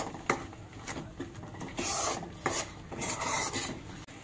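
A spatula scraping and stirring masala in a pan as it is fried dry for a Malvani makul (squid) curry, with repeated rasping strokes at an uneven rhythm, fairly quiet and close.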